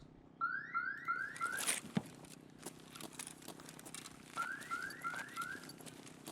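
A store alarm in Escape from Tarkov gives two bursts of rapid rising electronic chirps, four quick sweeps in each burst. A sharp click falls between them, with faint shuffling underneath.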